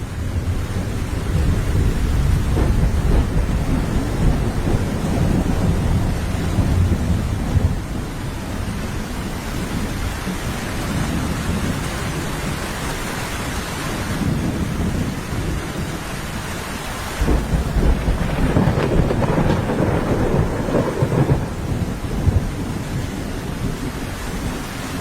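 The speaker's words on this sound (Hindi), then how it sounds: "अरे लगता है बहुत तेज बारिश होने वाली है।" Heavy rain pours down in a thunderstorm, a dense, loud, steady hiss of rain on surfaces with deep rolling thunder rumbling through, swelling and easing over its length, with no voices.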